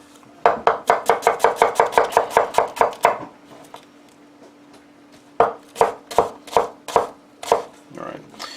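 Knife chopping ingredients on a cutting board for jambalaya, a fast steady run of about fifteen close crisp chops, then a pause and a few slower, spaced chops, heard alone without talk.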